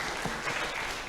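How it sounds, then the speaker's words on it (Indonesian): A brief burst of audience applause at a knowledge-sharing session, a soft, even wash of many hands clapping, faint and somewhat distant. "Tepuk tangan untuk Dani"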